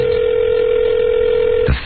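A loud, steady telephone dial tone plays at the start of a phone call, then cuts off abruptly near the end, followed by a brief rustle.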